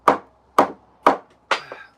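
A homemade hammer striking wood four times at an even, unhurried pace, each blow a sharp, close knock, the last one followed by a faint rattle.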